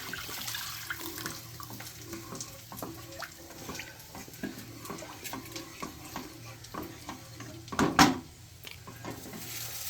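Tamarind water poured into a pan of cooking tomatoes for brinjal kuzhambu, a soft steady liquid sizzle with stirring clinks and one louder splash-clatter near the end, no talk.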